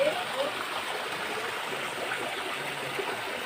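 River water flows steadily over rocks in the Konkan countryside, a continuous soft rushing wash that stays even throughout, with no other sounds standing out.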